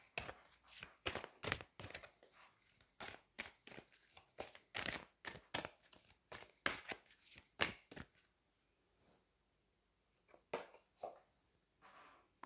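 Oracle cards from the Magic of You deck shuffled by hand in a close, quiet room, with a long run of sharp, rapid riffling snaps followed by a few slower, softer flicks as cards are drawn.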